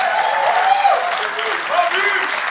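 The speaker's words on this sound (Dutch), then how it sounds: "Geef ze een applaus, dames en heren." An audience at a Maastricht student quiz show claps loudly and steadily, a dense wash of applause throughout, with a host's voice speaking over it.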